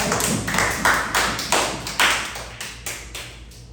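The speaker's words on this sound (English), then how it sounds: "And please give everybody a round of applause." Applause at a talk on trauma and coping, heard as a handful of sharp, separate claps spaced irregularly, fairly close and loud over a low background hum.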